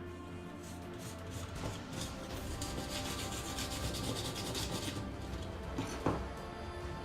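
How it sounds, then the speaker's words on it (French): Painted parts and their edges being sanded by hand, a steady soft abrasive rubbing that continues throughout, quiet and close, with one small knock near the end. "poncer aussi les tranches, hein, puisque la peinture"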